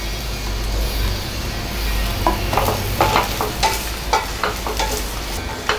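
Dried red chillies and coconut roast in a pan with a steady close sizzle, while a utensil stirs and scrapes in scattered clicks throughout.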